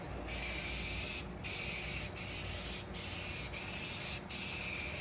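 Spray gun laying a paint coat over a fiberglass repair on a shuttle bus RV conversion, a steady close hiss running nearly continuously with a few brief pauses between passes.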